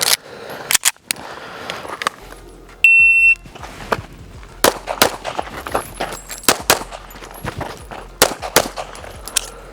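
Live pistol fire during a rapid shooting drill at a range, loud sharp shots in quick bursts, with a shot timer beep partway through and brief pauses between strings.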